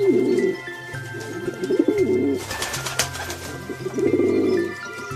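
A pigeon coos in soft, repeated low rolling phrases, close and clear, with a brief flutter of wings partway through.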